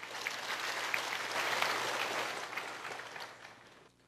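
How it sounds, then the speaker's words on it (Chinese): Audience applause welcoming a Buddhist master to the stage at a dharma gathering, a dense wash of many hands clapping that swells steadily and fades toward the end, with no one speaking. "我们热烈掌声欢迎圆贤法师"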